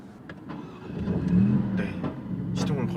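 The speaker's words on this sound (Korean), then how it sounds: "일단은 엔진을 한번 시동을 한번 걸어볼게요" A Maserati MC20 engine cranks and fires up, a mid-pitched mechanical surge that swells and then settles into a close idle, with a few clicks and short voiced sounds around it.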